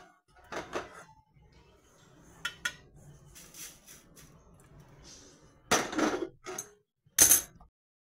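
Roasted moong dal being scraped out of a pan while making metkut, heard as a handful of sharp metallic clinks and scrapes of utensil against pan, separated by quiet gaps.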